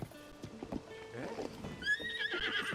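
Horse neighing in Zelda: Tears of the Kingdom, a clear whinny with clip-clopping hooves, the call rising loud and bright toward the end over steady game sound.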